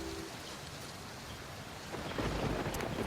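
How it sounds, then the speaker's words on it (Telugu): Heavy rain pours steadily outside with a deep rumble of thunder swelling louder near the end, with no voices. "బయట ఇలా వాన పడుతున్నప్పుడు"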